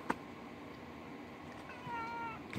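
A house cat meows indoors, a faint short tonal cry near the start and a longer drawn-out meow toward the end, quiet against a soft background hum.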